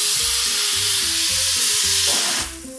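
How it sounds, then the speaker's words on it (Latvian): Chicken soup ingredients frying in a pan, a steady close sizzle with broadband hiss throughout, under low tonal background music, easing off in the final moment. "Tā, nu šits jau cepās."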